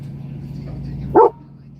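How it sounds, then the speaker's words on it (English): A single short dog bark close by, indoors or in a truck, rising over a low steady engine-like hum. "Why'd you bark into the bone?"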